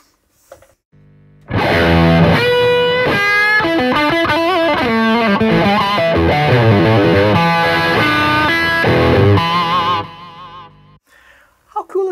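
Re-amped electric guitar heard back through a Line 6 Helix with reverb and delay: a distorted, chordal passage of about eight seconds, loud and sustained, with echo tails trailing off, beginning and ending on brief quiet moments.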